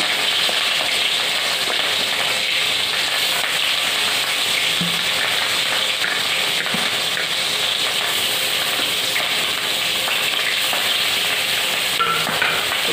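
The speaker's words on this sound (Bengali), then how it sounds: "তো মাছটা এখন এক পর ভেজে নিই।" Fish coated in turmeric and salt fries in hot oil with a loud, continuous crackling sizzle, close up and unbroken throughout, with no talking.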